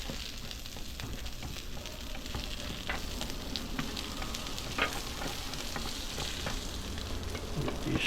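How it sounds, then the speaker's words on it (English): Continuous loud sizzling of steak fries frying in oil on a hot grill, with a dense crackling hiss and occasional spatter pops, close up and without talk. "It's the sizzle."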